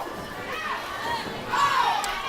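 Crowd cheering and shouting at a Tulane bowling match, a loud burst of many voices rising toward the end of a short stretch.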